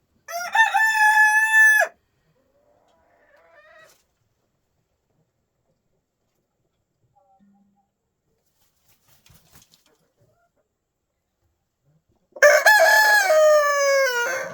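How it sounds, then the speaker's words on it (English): A rooster crows loudly nearby, then a long quiet stretch with faint rustles, and a second full crow rings out at the end. "There, that's how a crow's done."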